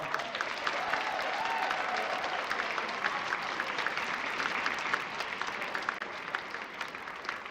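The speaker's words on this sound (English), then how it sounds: "let's give a round of applause" An audience claps steadily at a school winter closing assembly, a dense, even wash of applause that holds at the same level throughout.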